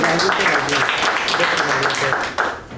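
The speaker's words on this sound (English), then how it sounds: "A big round of applause." Audience applause at the close of a Toastmasters club meeting, a dense steady wash of many hands clapping at moderate loudness throughout, with a brief swell near the end.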